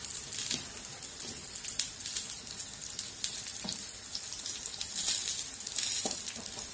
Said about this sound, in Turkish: Orada da patlıcan ekmek kızartma var.